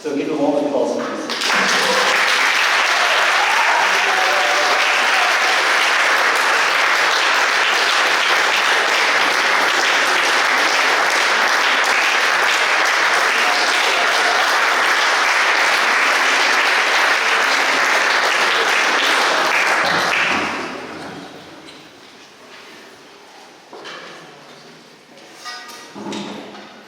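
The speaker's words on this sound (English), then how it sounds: "So give a warm applause, please." Warm audience applause for youth musicians, a dense sustained wash of clapping that holds loud for about twenty seconds, then fades to scattered claps and light room noise.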